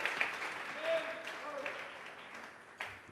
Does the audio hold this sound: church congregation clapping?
yes